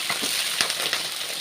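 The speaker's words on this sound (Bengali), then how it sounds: "আলুটা একটু ভেজে নিচ্ছি" Long-cut potato strips fry in hot oil, a steady, close, bright sizzle with soft crackles and an occasional stir.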